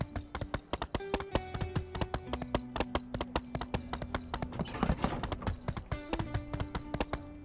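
Steady clip-clop of horse hooves in the video game My Time at Sandrock, a quick regular rhythm of sharp knocks close by, with a faint tone humming underneath.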